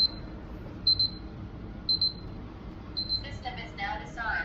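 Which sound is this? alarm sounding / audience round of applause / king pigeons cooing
alarm sounding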